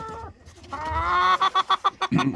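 Chickens cluck close by in a backyard flock that includes roosters, with a drawn-out vocal call followed by a quick run of sharp, rhythmic clucks, loud and unaccompanied by talk.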